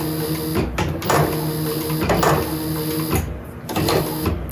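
A leather sewing machine stitches in short, close mechanical bursts with brief pauses between them, including back-tacking runs.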